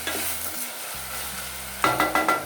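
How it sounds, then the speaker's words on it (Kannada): Raw banana pieces drop into hot oil, setting off a steady close sizzle with stirring scrapes, then a run of sharper rhythmic stirring knocks near the end. "ಕಟ್ ಮಾಡ್ಕೊಂಡಿದ್ದ ಬಾಳೆಕಾಯಿಯನ್ನು ಹಾಕೋತಾ ಇದ್ದೀನಿ. ಇದು ಅಷ್ಟೇ ಎಣ್ಣೆಯಲ್ಲಿ ಒಂದ್ಸತಿ ಚೆನ್ನಾಗಿ ಹುರ್ಕೋಬೇಕು."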